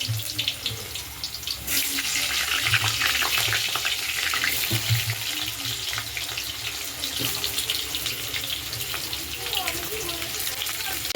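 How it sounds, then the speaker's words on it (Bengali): Steady sizzling and crackling of potatoes frying in hot oil, loud and close, with occasional clinks and faint background voices. "তেলটা গরম হয়ে গেছে আমি আলুগুলো ছেড়ে দেবো একটু ভেজে নেবো আলুগুলোকে"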